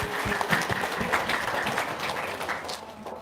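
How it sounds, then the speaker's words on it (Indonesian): An audience at an Indonesian talk on giving to charity applauds on request: a soft, even spread of many hands clapping, heard from a distance and fading slightly toward the end, with no voices over it. "Tepuk tangan dong."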